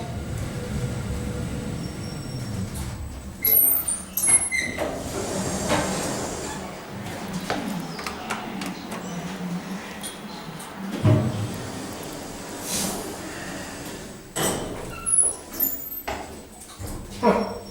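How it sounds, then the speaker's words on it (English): Centre-opening two-speed doors on a modern machine-room-less hospital lift slide and thud in several bursts, mixed with clunks and beeps and heard up close, while a person talks between the movements. "Centre open 2-speed doors."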